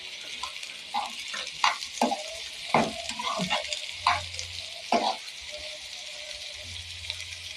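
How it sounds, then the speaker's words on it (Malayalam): Sliced onions with green chilies fry in oil while being stirred, a close sizzling hiss punctuated by frequent clattering spoon-against-pan scrapes and knocks, with a low hum coming and going. "സവാള ഞാൻ ഒന്ന് ഇളക്കി കൊടുത്ത് എണ്ണയിലോട്ടിട്ട് മൂപ്പിച്ചെടുക്കാം."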